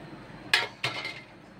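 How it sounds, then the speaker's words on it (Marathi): Metal lid lifted off a pot of steamed Maharashtrian alu vadi, giving two quick close clinks about a third of a second apart against a quiet background. "तर वडीवरचं झाकण काढून बघूया"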